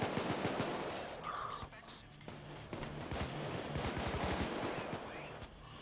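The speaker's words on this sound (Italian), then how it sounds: "Fioi mi sta sparando ovunque" Rapid bursts of gunfire in the Payday 2 heist game, repeated cracks and volleys in quick succession through most of the stretch, mixed with game effects and faint voices.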